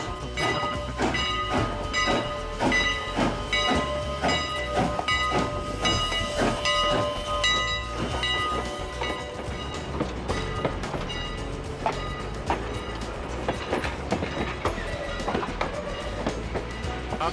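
A train at the Strasburg Railroad Museum rumbles past up close, with rhythmic clicks and clanks of wheels over rail joints, hissing, and metallic rattling that carries on throughout.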